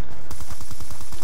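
Rapid automatic gunfire in Call of Duty Black Ops 2, a loud rattling burst of evenly spaced shots running for about a second right after a brief quieter lead-in.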